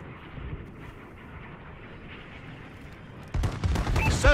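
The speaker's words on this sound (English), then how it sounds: "Friendly bombing run incoming." Friendly bombing run explosions in the Call of Duty Advanced Warfare video game, a low rumbling battlefield bed that bursts into loud, dense blasts near the end.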